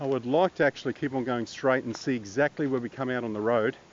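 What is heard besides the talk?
No everyday noise stands out behind the speech.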